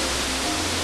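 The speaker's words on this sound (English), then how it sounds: "This explains the rapid sounds of water that can nearly block your ears" Rushing water of a 30-meter waterfall in Uganda, a loud, steady broadband roar filling the whole short stretch with no voices.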